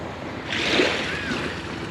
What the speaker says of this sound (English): This is a pretty nice hangout beach area.